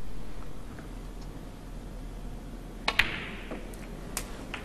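Snooker balls knock together in a cannon shot at a 2011 Premier League match, a couple of sharp clicks followed by a few fainter taps over quiet hall ambience.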